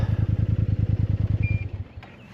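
The engine of a Kymco AK 550 Premium scooter idles with a steady, pulsing throb up close, then winds down and stops after about a second and a half, leaving a faint click and quiet.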